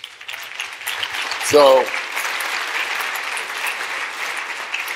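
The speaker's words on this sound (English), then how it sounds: "I always get the same response, a lot of hand claps" Audience applause fills a tech summit hall, a steady wash of many hand claps running throughout, with a brief spoken word from the speaker near the start of the clapping.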